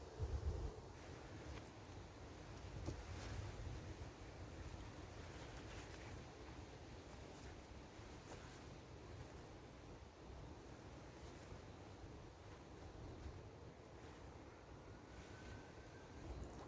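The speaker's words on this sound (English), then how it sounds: "It's a bit breezy out there" Breezy wind blows across an outdoor garden allotment plot, a faint, steady rush with low rumbling gusts against the microphone, continuous throughout and with no one speaking.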